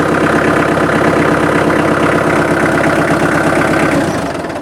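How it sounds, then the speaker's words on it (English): A tractor engine runs at idle close by, a steady loud rumbling drone with a rhythmic low chug that holds for about four seconds before easing slightly at the end. "Well, I'm out here on the tractor."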